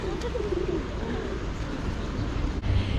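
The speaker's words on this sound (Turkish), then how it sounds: "Adım başı güvercin var burada." Pigeons coo in a city square near an old Ottoman-era mosque, a soft low burbling call heard against a steady wash of outdoor crowd and traffic noise.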